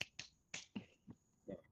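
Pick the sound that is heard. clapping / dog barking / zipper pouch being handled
clapping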